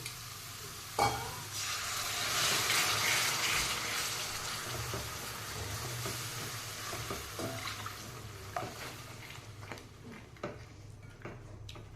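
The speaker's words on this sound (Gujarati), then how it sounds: "હવે આ બધું મિક્સ કરી દઈશું ને એની જોડે આપણે થોડુંક ગરમ પાણી એડ કરીશું" Steady sizzling and bubbling as hot water is added to pigeon pea (tuver) gravy in a pan, with clattering stirring strokes and a few sharp scrapes, continuous and close, no voices.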